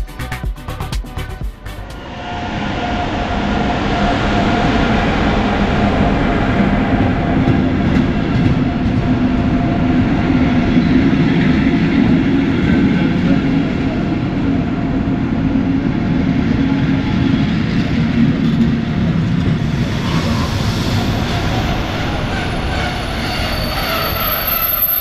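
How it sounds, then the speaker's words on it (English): An old regional train pulls into Chemnitz main station with a loud, continuous low rumble and wheel roar that builds after a brief quiet start and holds steady, easing slightly toward the end. "Here we can see the arrival of our train today, which is a, as I said, quite old and very special train."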